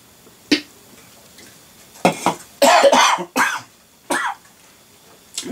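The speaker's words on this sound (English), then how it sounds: "You just love it when you cough just as you take a swig from your drink" A person coughs while taking a swig of a drink: several sharp, close coughing bursts with a throat-clearing quality, separated by short quiet gaps, with no speech.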